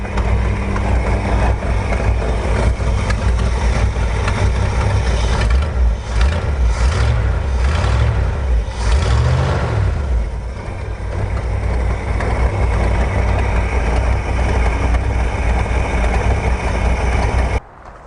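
Steady idle from a 1969 Ford F100 pickup's 360 V8 with automatic transmission, a constant close low rumble with a few brief swells in the middle, running alone without talk before cutting off at the end.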